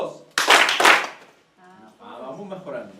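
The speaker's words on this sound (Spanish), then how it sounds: "A ver, un aplauso." A classroom of students bursts into a short round of group clapping, a loud, dense volley of a few beats. A teacher's voice follows.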